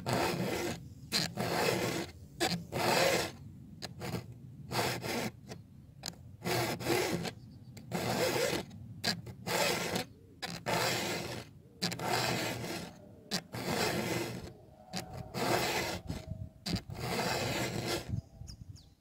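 Flat file rasping across a chainsaw chain during sharpening, a series of short, regular scraping strokes repeating steadily and fairly close, with no talk.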